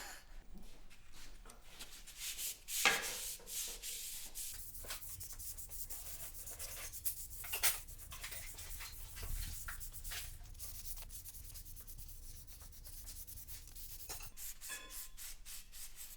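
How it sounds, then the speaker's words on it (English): Rubbing down a black guide coat on the bodywork of a 1926 GP Salmson, faint repeated back-and-forth abrasive strokes in a quiet workshop, with a few louder knocks and no speech. "what you do, you rub it, and you can see where you've rubbed, because obviously a little bit of it stays there"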